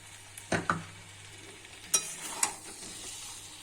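Prawns in a pan for an echor chingri curry with young jackfruit, a soft continuous sizzle broken by several sharp stirring knocks and scrapes against the pan.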